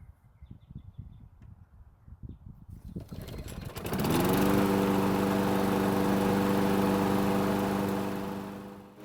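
A Craftsman riding mower with an electric start rattles and cranks, then its gasoline engine catches and settles into a loud, steady, droning run that holds to the end.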